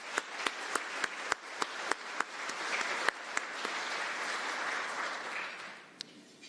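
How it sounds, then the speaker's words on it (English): An audience at an attorney general debate gives a round of applause, a steady wash of clapping with a few sharp, isolated claps standing out near the front before it fades out. "So big round of applause for AWB and our two candidates."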